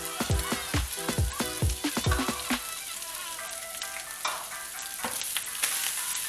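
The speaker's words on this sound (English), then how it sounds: "let's give that a little bit of a stir fry so the flavours combine" Onions, peppers, cumin and garlic sizzle in a hot pan while being stirred, with a series of sharp scraping stir strokes at first, then a steady close frying hiss.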